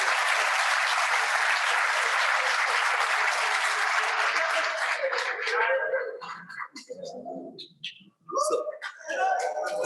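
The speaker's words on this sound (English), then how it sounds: "And they give them another round of applause." Loud, dense audience applause fills an award ceremony for a unanimous judges' decision, then thins into scattered claps with murmured crowd noise near the end.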